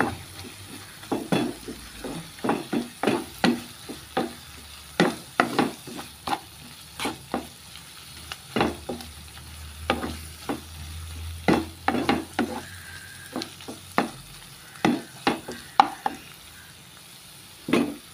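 Turmeric powder and salt are stirred into tomatoes in a frying pan, a soft sizzle running beneath sharp, rhythmic scrapes and clinks of the spoon against the pan, close by and steady, with no talking.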